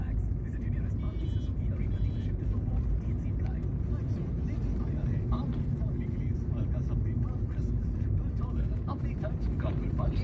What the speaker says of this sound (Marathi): त्या दिशेने ते खूपच ट्रॅफिक आहे बघा